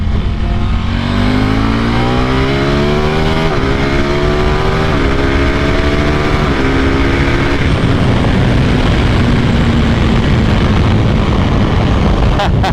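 A KTM RC8R V-twin motorcycle accelerating hard on the road, its engine note rising through the gears, then dropping as it downshifts to second and pulls again, loud and close with constant wind rush.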